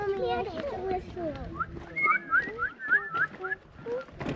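At Bryce Canyon, a young child attempts lip whistling, making short breathy chirping whistles in quick bursts, mixed with other children's voices and chatter nearby.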